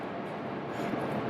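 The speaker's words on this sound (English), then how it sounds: "The Hayabusa train is the new Shinkansen line that goes up to Hokkaido" Steady rumbling train noise with a broad, even roar inside a moving Hayabusa Shinkansen bullet train car in Japan, continuous and moderately loud throughout.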